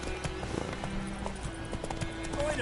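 Hooves of Roach, a horse in a video game, clip-clop in a steady galloping rhythm across the whole stretch, with a faint whinny and some game music or ambience underneath.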